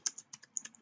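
Quiet, close typing on a computer keyboard, about eight light key clicks in quick uneven succession, alone without talk.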